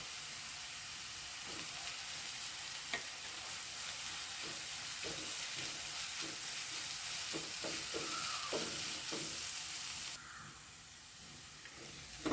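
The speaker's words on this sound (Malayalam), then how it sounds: "അതിൻ്റെ പച്ചച്ചവ മാറുന്ന വരെ ഒന്ന് ഇളക്കി കൊടുക്കാം കേട്ടോ." Green chillies, garlic and ginger frying in a pan give a steady, loud hissing sizzle, with soft spoon taps and scrapes from occasional stirring. The hiss drops abruptly near the end.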